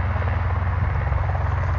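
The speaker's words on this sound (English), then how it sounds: "Excuse the helicopter taking off behind me." Helicopter taking off at an airfield, a loud, steady rotor thrum with rhythmic low beating that fills the whole stretch close by, with no voices over it.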